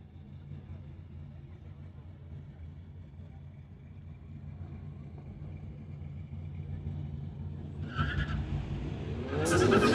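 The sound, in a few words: two Volkswagens launching in a street-legal drag race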